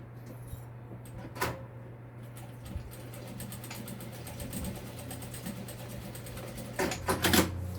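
A sewing machine backstitches a strap onto a small waist bag, a steady motor hum with rapid needle clatter that grows busier near the end, close by.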